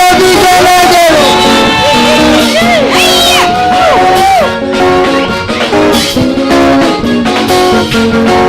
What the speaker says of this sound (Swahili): vigelegele vigelegele